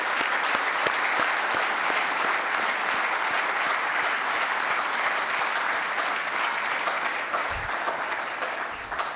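A large conference audience gives sustained applause for international guests at a keynote event, a dense, even wash of clapping continuing steadily without letup.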